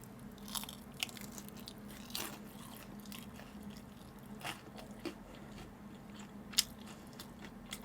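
Crisp bites and crunching chews on fried tempura come close to the mic, scattered sharp crackles over a low hum and some soft chewing between them.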